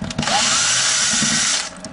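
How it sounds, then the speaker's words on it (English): A power drill backs screws out of a high-security lock, giving one loud, steady whir that spins up quickly, holds for over a second, then winds down, close to the microphone with no talking. "Now we're going to take these four screws out."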